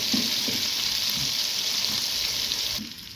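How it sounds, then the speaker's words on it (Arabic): Garlic sizzles and fries steadily in a hot pan, a close, constant crackle that drops off abruptly near the end. "انا كده بحمر معلقه الثوم دي بتاع الصينيه كده بالشكل ده"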